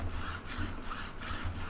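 Steady rasping strokes of a file beveling the fret ends along a guitar neck, repeated back-and-forth passes with brief pauses between them, close and fairly quiet.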